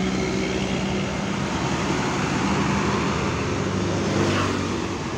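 A Diltrans tour bus pulls out through the exit of Purabaya Bungurasih terminal, its engine rumble steady and loud amid continuous traffic noise, with no talking.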